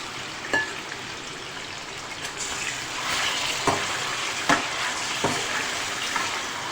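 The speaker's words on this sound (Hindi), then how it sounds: "अब हम चिकन को बिल्कुल फ्राई करेंगे इसके अंदर।" Cubed chicken frying in a pan with garlic, a steady hiss and sizzle with a few sharp pops and crackles throughout, close and continuous with no talking.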